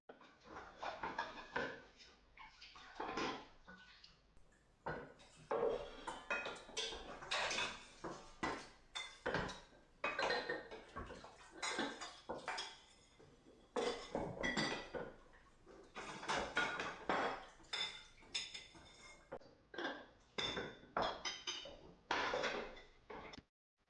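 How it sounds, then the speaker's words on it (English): Pots and pans clank in a kitchen in the video game Five Nights at Freddy's 4, a faint, irregular series of metallic clatters and clinks that repeats throughout. "she goes to the kitchen where you will hear pots and pans clanking, telling you she is in the kitchen"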